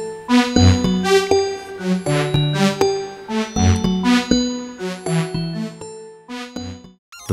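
A bright melody played on the Alchemy software synthesizer, with plucked, bell-like notes ringing over a low bass line in a steady, lilting rhythm before fading out at the end.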